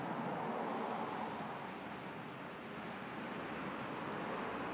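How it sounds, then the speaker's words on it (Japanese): Ocean surf at a surfing beach, with waves of shrinking size breaking in a continuous, dense roar of washing noise that stays loud and steady throughout, with no voices. "ちょっと波サイズダウンしてきましたね。"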